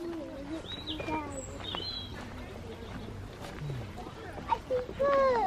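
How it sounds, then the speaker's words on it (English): Several birds chirp and whistle in short, bright calls close by at Blue Pool, Dorset, over a soft outdoor background with people talking quietly. "I see birds. You see birds? Yeah, I heard them."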